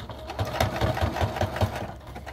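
A sewing machine runs a zigzag stitch on fleece for a hat, a steady close-up mechanical whir with a fast regular thumping rhythm throughout, alone without voices.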